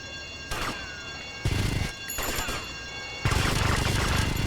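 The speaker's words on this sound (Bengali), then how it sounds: "নিচে কই থেকে গুলি করতেছে আমাকে" Enemy gunfire in the GTA Vice City video game: loud, dense bursts of shots and crashing impacts repeating over several seconds, close and continuous with no speech.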